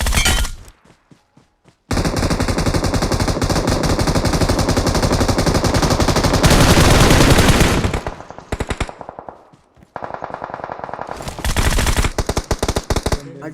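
A Groza assault rifle fires in long, rapid automatic bursts in a mobile shooter game, loud and close, with brief gaps and shifting intensity between strings of shots.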